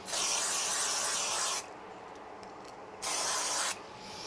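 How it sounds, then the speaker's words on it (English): Spray glue hisses from an aerosol can onto the back of a piece of card, in two steady close bursts, a long one then a shorter one, with quiet pauses between and no talking. "let's just use a bit of spray glue on the back"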